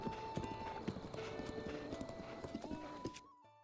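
Horse hooves clip-clop in a Zelda video game: a rapid, steady trotting rhythm over game music and ambience, up close and clear, ending abruptly.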